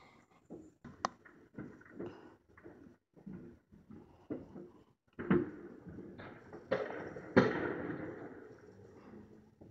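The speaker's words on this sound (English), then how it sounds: "You can hear all the other fireworks all in the background." Fireworks at an outdoor celebration crackle and thump at a distance, with scattered pops that grow denser and louder toward the end. No speech is heard.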